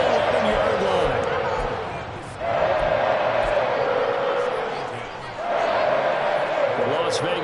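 A stadium crowd roars in the Madden 23 football game, a loud, steady wash of cheering that sags briefly twice before swelling back to full strength.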